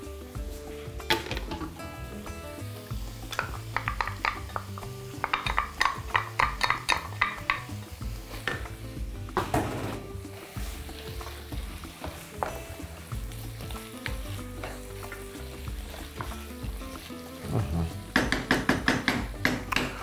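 Food frying with adjika in a pan, with a low sizzle under repeated clanks and scrapes of a utensil stirring against the metal pan, in uneven bursts.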